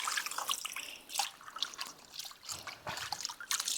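Water is poured in irregular splashing trickles and drips during outdoor chicken gravy cooking, faint to moderate, coming in uneven bursts.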